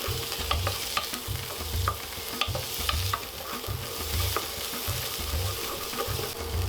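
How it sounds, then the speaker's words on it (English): Onions coated in tomato paste stirred in a pan for a paneer and roasted vegetable curry, a rhythmic series of scraping strokes over a soft steady sizzle, fairly quiet and with no talking. "Give it a mix up, coat the onions"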